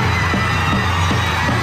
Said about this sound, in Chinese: 他们发出震耳欲聋的欢呼声